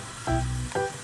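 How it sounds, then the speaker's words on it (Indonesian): Flour cooks in melted margarine for a lasagna sauce, giving a steady, close sizzle that swells briefly twice during the short moment. "Kita didihkan di dalam margarin leleh ya teman-teman."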